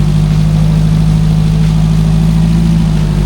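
A newly assembled Tamiya OTJ car engine idles steadily and loud, a constant mid-low drone with a faint high whine riding over it and no talk.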